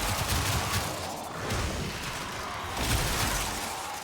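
Continuous rapid gunfire from a weapon in Warframe, dense bursts of shots running steadily and loud throughout with no pauses.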